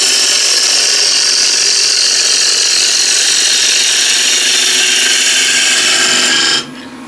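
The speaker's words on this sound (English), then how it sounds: "Or I can use asymmetric ball gouge." Wood spinning on a lathe under an asymmetric ball gouge, a loud steady whirring scrape that runs continuously and then drops off sharply near the end.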